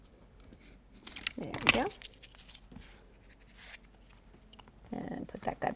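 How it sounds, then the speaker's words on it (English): Scissors snip through an animal nose mask to trim extra off one side, a few crisp cuts and rustles mixed in with a speaking voice nearby. "So I'm going to cut a little bit extra off this side right here."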